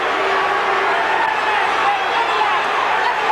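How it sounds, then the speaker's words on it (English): A steady, loud roar from a boxing crowd cheering during the 1982 Larry Holmes vs Gerry Cooney heavyweight fight, with dense babble and no distinct voice rising above it. "Crowd really comes alive now, actually for the first time tonight."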